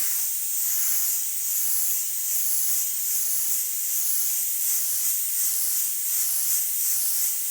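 Airbrush spraying paint while blending a slightly darker color mix, a continuous even hiss of air and paint with a faint pulsing texture, close and steady with no talking.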